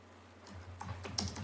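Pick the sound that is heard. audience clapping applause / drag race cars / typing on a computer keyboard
typing on a computer keyboard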